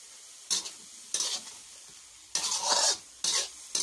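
Vegetables stir-fried shop-style in a pan with oyster sauce give off loud, close bursts of sizzling and scraping, four or five separate surges with brief quiet gaps between them.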